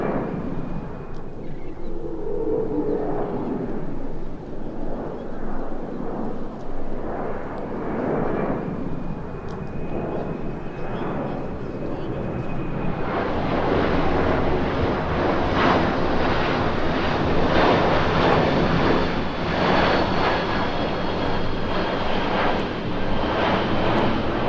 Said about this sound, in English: Big jet coming in.